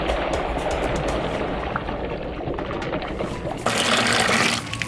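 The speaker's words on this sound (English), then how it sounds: "we want to pour our water." Water poured into a bucket for mixing mortar for brickwork, a steady loud splashing gush that runs continuously and swells brighter near the end, close to the microphone, with no talking.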